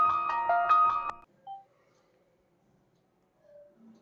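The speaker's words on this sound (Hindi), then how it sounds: "अरे फोन आ रहा है ना" A phone's ringtone sounds in a short burst of bright, stepped electronic tones, then cuts off, followed by faint brief beeps in a quiet room.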